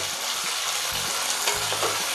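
Onion, tomato and ginger-garlic paste sauté in hot oil in a pan for Bombay chutney, giving a dense, close sizzle with a few scraping stirs of a spoon against the pan.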